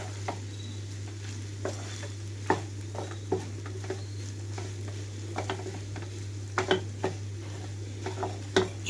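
Coconut paste and green chilli paste being stirred into cauliflower rice, a spoon scraping and clinking against the pan in scattered light strokes over a steady low electrical hum.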